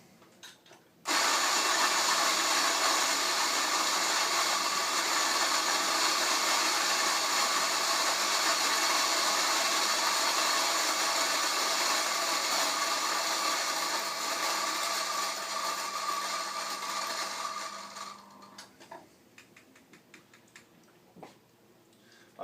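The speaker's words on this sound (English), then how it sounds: "grind straight into the cone here." An electric coffee grinder grinding 20 grams of coffee beans straight into a pour-over cone, a loud steady high whir that starts abruptly, runs for about seventeen seconds alone, then winds down and stops.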